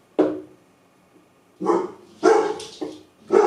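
A pet dog barking indoors with several sharp, fairly close barks, one alone and then a quicker cluster after a pause, with no talking.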